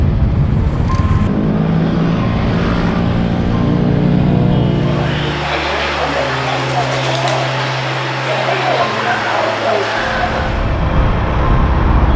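A rented Honda Wave 125i motorcycle ridden on a mountain road near Chiang Mai, with a steady engine drone and wind rush under continuous talking.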